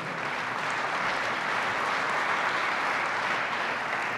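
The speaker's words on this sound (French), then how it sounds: "je vous demande de les applaudir très fort" Loud, steady applause from a large audience at an inauguration, dense and even throughout with no pause, filling the room for regional presidents.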